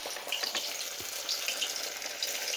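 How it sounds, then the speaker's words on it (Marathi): Sabudana fries hiss and sizzle steadily as they deep-fry in hot oil over low heat, a close, continuous bubbling crackle with no talking. "आणि हे आपण तळूया."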